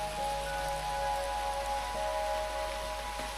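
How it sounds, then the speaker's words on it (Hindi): Heavy rain falling steadily in Bhitarkanika forest, a mangrove crocodile habitat in India, forming a continuous, even wash of noise with a few faint steady tones running through it. "अब बारिश और तेज हो गई है"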